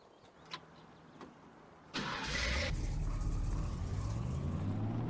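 A truck engine in the Farming Simulator game cranks and fires up after a couple of faint clicks, then settles into a steady, loud idle rumble for the rest of the clip, with no talking.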